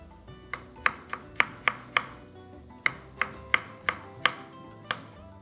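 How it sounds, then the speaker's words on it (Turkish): A knife chops tomatoes on a cutting board in a Turkish Anatolian kitchen, a dozen crisp, evenly spaced knocks landing close and clear with no talking. "Şimdi domatesimizi de minik minik hazırlayalım, onu da doğrayalım."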